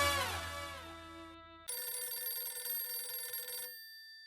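A telephone ringtone sounds twice: a bright descending chime, then a sustained electronic ring, close and clear with no voices.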